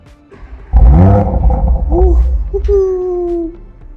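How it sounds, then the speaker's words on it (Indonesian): An Audi RS4 Avant V6 Quattro engine revs hard, its loud droning note climbing in pitch and then holding a high, steady whine for a couple of seconds before easing off. "satu hal yang membuat Audi RS4 Avant ini terasa spesial adalah suara dentuman mobilnya"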